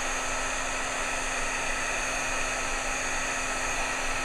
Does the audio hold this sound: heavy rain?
no